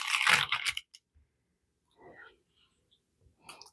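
A crispy homemade sourdough discard cheese cracker crunches loudly close to the mic in one burst at the start, followed by a few faint, soft chewing crackles.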